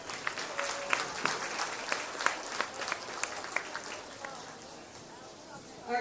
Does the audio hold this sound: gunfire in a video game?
no